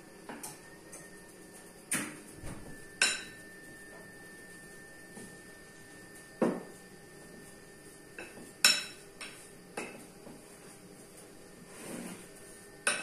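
Bean pâté being stirred by hand in a bowl, giving irregular soft clinks and scrapes of utensil against the dish at a close, moderate level with quiet pauses between strokes.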